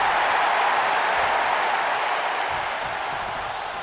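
Crowd cheering in the WWE 2K24 wrestling video game during a Universe Mode match, a steady, dense roar of fans that holds loud throughout and fades only slightly toward the end, with no talk over it.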